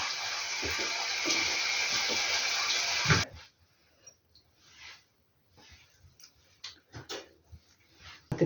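A small brush scrubs something in a little water, a loud steady wet rush at first, then after a sudden drop come quiet, irregular scratchy strokes and light splashes.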